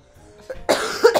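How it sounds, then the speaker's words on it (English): A short cough with a throat-clearing edge from someone with a returning cough, close and fairly loud, a couple of rough bursts after a quiet lead-in. "the cough's coming back"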